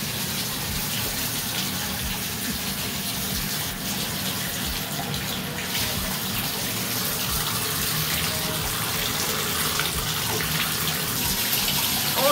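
Water runs steadily from a tap or shower while freshly bleached hair is rinsed after cap highlighting, a constant broadband rush holding even level for the whole stretch with no talk.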